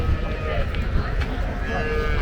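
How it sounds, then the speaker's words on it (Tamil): Cattle, including a native breed cow, low and moo at the busy Kundadam cattle market, a loud, close bellow set against general market bustle and faint voices. "இங்க ஒரு நாட்டு மாடு இருக்கு"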